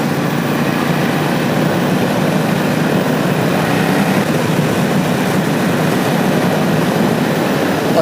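A 1996 Suzuki Intruder VS1400 motorcycle rides at speed, a steady loud engine drone mixed with rushing wind noise, continuous and unbroken throughout.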